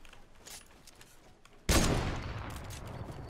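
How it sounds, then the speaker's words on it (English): Gunfire crossfire in the Fortnite video game: faint scattered shots, then a sudden loud burst of rapid weapon fire that sustains with rattling reports, close and dense. "People were shooting from everywhere."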